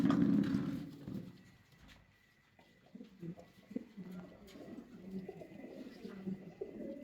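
House pigeons at a pigeon farm, soft low cooing in short bursts, fairly quiet and close, with a louder rustle at the start.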